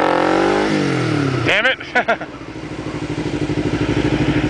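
A stock-geared motorcycle engine revs up and drops during wheelie practice, then settles into a loud, rapid thumping idle-to-throttle chug up close, with a man swearing briefly over it.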